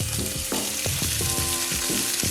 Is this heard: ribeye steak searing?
yes